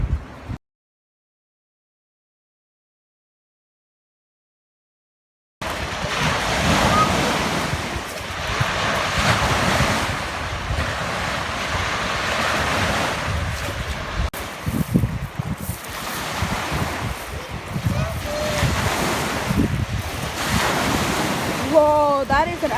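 Rough Lake Ontario waves break and wash along a Toronto beach in a continuous roar with heavy wind buffeting the microphone, after a brief silent gap at the start.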